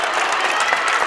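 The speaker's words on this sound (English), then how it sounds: "their crowd has come alive as well. It's getting loud here at the Siberian Gym." Loud high-school basketball crowd at Siberian Gym during the fourth quarter of Classen SAS versus Edmond North, steady roaring cheers and applause that fill the whole moment without a break.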